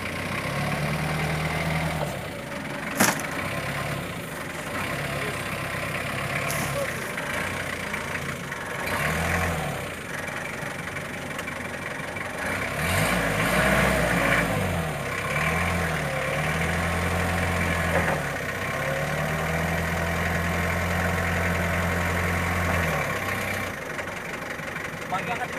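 A boat engine idles steadily with low, rumbling pulses that rise and fall, heard during preparations for a BAKAMLA RI maritime security operation, with people talking over it throughout.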